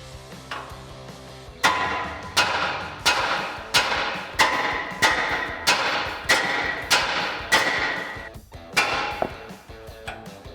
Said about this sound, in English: And then we're just gonna strike this side right here with a hammer to release this ball joint.